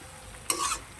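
A mixed vegetable curry with eggplant is stirred in a pan, one brief scraping stir rising over a quiet, faint sizzle and fading after about a quarter second, with no voices.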